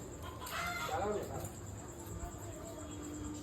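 A chicken clucks briefly and fairly faintly amid a noisy outdoor background with a steady hum.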